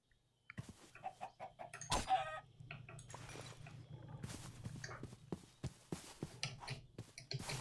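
Chickens cluck repeatedly in the Minecraft RLCraft modded game, a busy run of short, close clucks and squawks over a low steady hum, with one loud burst near the start.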